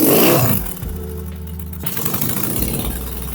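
A BMW R100 motorcycle, dressed as an R75-style scrambler, runs at a steady idle: a loud, close, continuous engine drone with a low throb and no talk over it.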